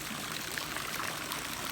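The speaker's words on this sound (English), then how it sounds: "About a, 5-foot arc of water went out into the pool there." Pool deck jets throw a steady arc of water into a backyard swimming pool, a continuous splashing rush with no break and no voices.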